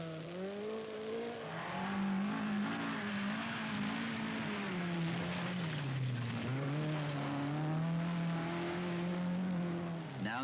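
A Ford Escort rally car in a 1979 night stage of the Castrol International Rally in New Zealand drives hard, its engine revving loud and steady with rising and falling pitch as gears change, close and continuous throughout.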